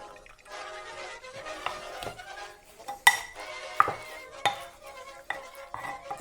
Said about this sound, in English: Olive oil.